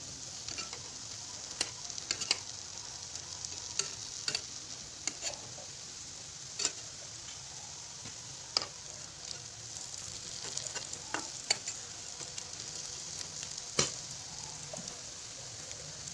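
Assamese laopolla pitha fries in a pan with a steady, close sizzle, broken by scattered ticks and pops from the spattering oil.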